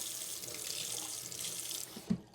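Cold water runs from a kitchen tap for a cornstarch slurry while green chili is being made, a steady hiss of flowing water for about two seconds that stops with a soft clunk as the tap shuts off.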